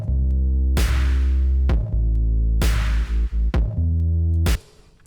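Basic EDM drum loop with a heavy sustained bass, loud and up close: punchy kicks and bright crash-like hits over thick low bass notes that change pitch, cutting off sharply near the end.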